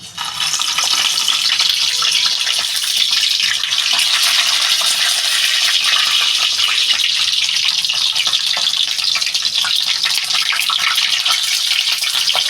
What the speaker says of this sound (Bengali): আমি এবারে একটা একটা করে শিমলা মির্চ কড়াইতে দিয়ে দেবো